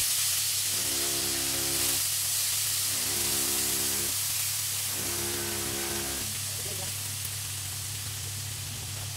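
Marinated chicken being half-cooked in a frying pan gives a steady, loud, broad sizzle throughout, with a low droning tone rising and fading in three separate spells underneath.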